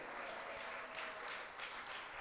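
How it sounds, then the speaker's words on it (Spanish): A church congregation applauds during a sermon, steady dense clapping heard from a distance at low level, without pauses for the short span. "¿Cuántos experimentaron esto y le dan un aplauso al Señor?"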